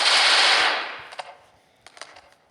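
A turret in the sandbox game Melon Sandbox fires a loud, dense burst of automatic gunfire that fades out, followed by a few scattered quieter shots.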